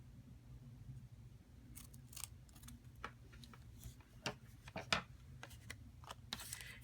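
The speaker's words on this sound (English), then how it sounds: "just cut away the part that I don't need." Scissors snip through card paper while trimming a hand-stamped greeting card, a run of quiet, irregular clicks and cuts close by with no talking.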